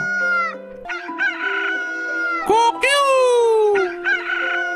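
A rooster crows loudly and close, several long, drawn-out calls broken by shorter clucking notes, with no other sound competing.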